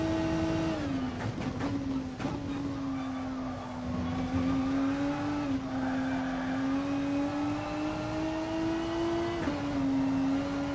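A race car engine in the GT Sport video game drones steadily through a lap, holding a high, even pitch with small dips at shifts and corners, loud and continuous with no talk.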